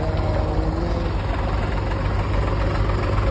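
A tractor engine pulling out of waterlogged mud, a loud, close, low rumbling drone with steady knocking pulses throughout, no talking.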